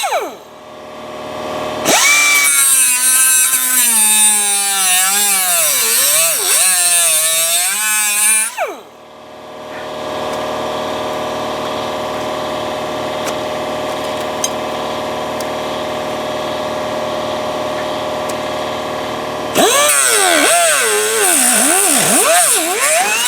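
An angle grinder whines loudly while grinding out spot welds on the rocker panel of a 2001 Chevy Tahoe. Two long bursts, with the pitch wavering under load, are separated by a stretch of lower motor hum.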